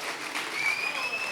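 An audience claps to welcome MC Brian at a comedy show, a brief, moderately distant patter of applause with crowd noise.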